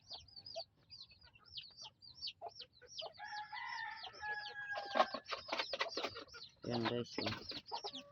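Darag native chickens cluck and crow in a coop, a rooster crowing loudly over scattered clucks and chirps, with someone talking briefly at the end.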